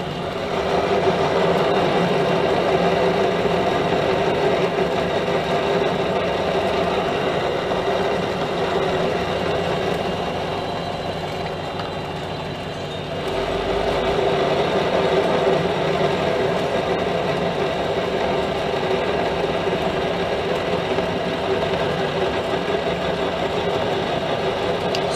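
A small benchtop mini lathe runs steadily at low speed, a constant close mechanical hum and whir with a slight dip partway through, and no talking.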